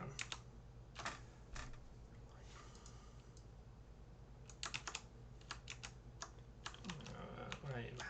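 Clicky bursts of typing on a computer keyboard while writing Java code, quiet and close, in short irregular runs of keystrokes separated by pauses.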